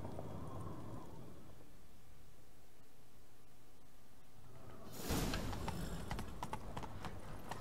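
Horse hooves clip-clopping in the video game The Witcher 3, a faint steady rhythm that suddenly turns into a louder, noisier rush of galloping and movement partway through.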